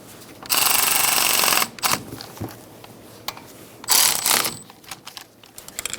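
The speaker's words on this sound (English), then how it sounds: "And now we can put our bolts in. We're going to snug these up" Ratchet snugging brake caliper bolts on a Hyundai Accent during a front brake job: a long, steady burst of rapid clicking, then brief pauses and a second shorter run of ratcheting with a few metallic taps, close and clear.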